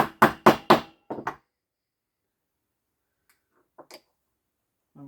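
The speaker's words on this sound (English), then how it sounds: "So I take a hammer a little bit on it" Four sharp hammer taps strike a Honda Miimo HRM 3000 robotic mower's wheel motor in quick succession. A couple of faint knocks follow after a pause.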